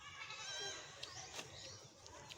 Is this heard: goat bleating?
yes